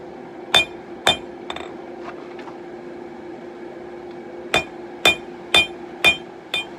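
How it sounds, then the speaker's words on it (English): Hammer blows ring on a small 66-pound anvil while set downs are worked into hot stock: two sharp metallic strikes, a few lighter taps, then a quicker run of five ringing hits, close and loud. "So just work those set downs in where you want them."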